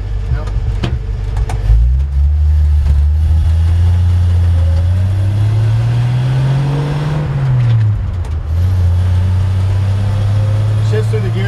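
A 1955 Chevrolet 3100 short bed pickup with a three-speed column shift drives along, its engine droning low and rising through a gear before dipping at a shift and pulling again, with road noise around it.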